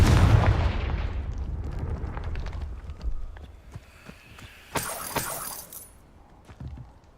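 Confringo fire-blast spell exploding in Hogwarts Legacy, a loud blast decaying into rumble, followed by a sharp second crack with glassy shattering debris.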